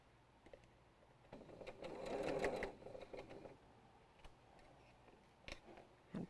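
A sewing machine chain piecing quilt pieces runs in a short whirring burst around the two-second mark, then gives scattered quiet clicks and taps, close up with no talking.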